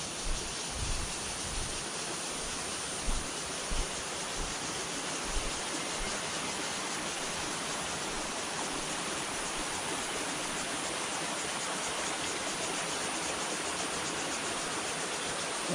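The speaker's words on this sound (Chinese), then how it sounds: "溪水很大哦" A strongly flowing mountain stream in a gully at Wufeng rushes in a constant, dense roar of water, steady and fairly close, with no voices.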